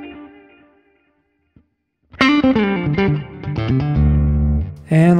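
Clean guitar tone played through a Line 6 POD HD500x multi-effects unit with reverb switched on, a single sustained chord fading out, then after a pause a loud run of ringing notes and chords with a reverb tail.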